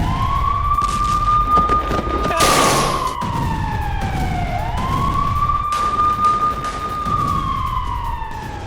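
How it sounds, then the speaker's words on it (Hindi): Air raid sirens in northern Israel wail in long, slow rising and falling tones during Hezbollah attacks, loud and sustained, with a muffled thud and background noise underneath. "उत्तरी इजराइल में बज रहे हैं सायरन"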